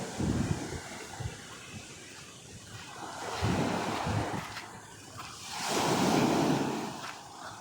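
Water surges through an ocean channel by a bridge in the Maldives in rolling swells that rise and fall every few seconds, with heavy wind buffeting the microphone.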